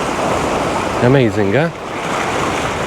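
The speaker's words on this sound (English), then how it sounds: "The waves hitting the rocks over here." Waves break against rocks at Wall Stone Beach, Taħt is-Sur, Mellieħa, as a constant close wash of surf, with someone briefly speaking over it midway.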